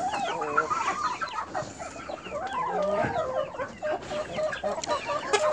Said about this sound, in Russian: Куры у меня тут все разные уже.